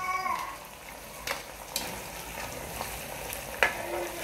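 Crayfish and blended scotch bonnet peppers hit a hot pot of potato leaf vegetable soup, giving a steady close sizzle and frying hiss with a few sharp clinks of stirring, no talking.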